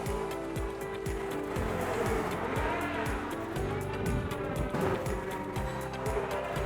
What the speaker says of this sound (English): we have a motor that is spinning some tires that is giving us the energy that we need to get up high